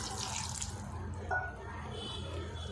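Water poured into a pan of sautéed soya chunk and potato masala for a curry-style gravy, a steady close splashing and trickling pour with a brief brighter splash partway through.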